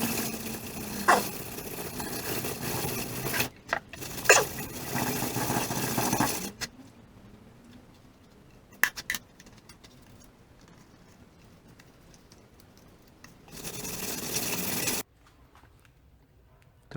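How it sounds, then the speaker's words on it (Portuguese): Hand sanding the oil pump seat on a Ford Endura engine block, with bursts of gritty scraping strokes that start and stop between quiet gaps, close and fairly loud. "Então lixei aqui o assentamento da bomba de óleo."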